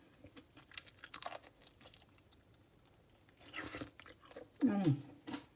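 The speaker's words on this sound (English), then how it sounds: "Oh, cheese is so crunchy." Close, wet crunching and chewing of a cheese-stuffed serrano pepper in short bursts, with quiet mouth noises and a louder crunchy bite near the end.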